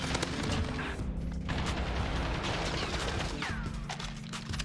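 Dense video game gunfire crackles in rapid bursts throughout, loud and continuous, with booming shots layered over sustained rattling fire.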